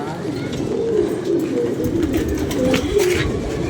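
Pigeons coo repeatedly in low, throaty calls over a continuous background murmur.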